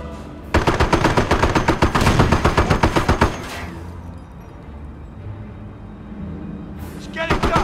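A loud, close burst of rapid machine-gun fire in the World War II strategy game Company of Heroes, a steady stream of shots lasting a few seconds, then quiet background rumble before another burst starts.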